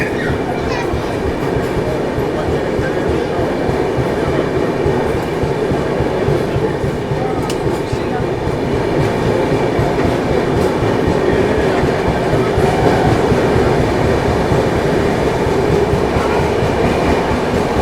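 The Vibhuti Express pulls away from Bardhaman Junction, filling the scene with steady, loud rumbling and rhythmic wheel clatter heard from on board, continuous and unbroken.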